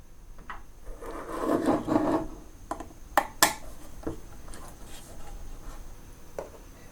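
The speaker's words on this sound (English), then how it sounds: "We're going to start the disassembly of the power supply by removing the 5 bottom screws on both sides of the power supply." Screws are being worked out of a metal power supply casing, a scraping, rubbing stretch followed by a few sharp clicks and small taps, close and fairly quiet.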